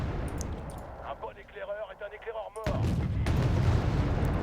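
Mortar and artillery fire in the video game Wargame Red Dragon, a Korean War campaign: a loud, sustained barrage of booming gunfire with a dense rumbling tail, with a brief spoken or tonal passage in the middle.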